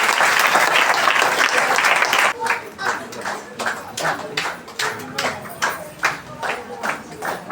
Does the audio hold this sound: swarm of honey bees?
no